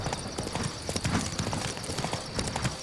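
Hooves of Roach, a horse in The Witcher 3, clop in a brisk irregular rhythm on a bridge, close and clear over a faint steady ambient hum, with no voices present.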